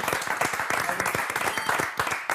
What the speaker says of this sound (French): Moi j'ai envie de vous applaudir.